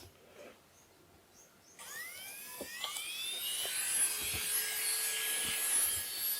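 A rotary 600 to 800 grit diamond bur polishes a sintered piece, a high-pitched whirring that starts after a quiet lead-in and holds steady close up, with faint rubbing contact noises.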